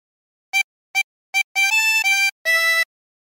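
Harmonica playing a short melody phrase: three brief separate notes followed by longer sustained notes and chords, clear and close with silence between.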